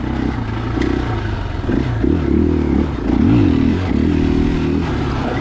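A 2021 KTM 500 EXC-F dirt bike ridden on fresh singletrack at Johns Peak OHV, its engine droning steadily and rising and falling with throttle, loud and close, with some clatter from the trail.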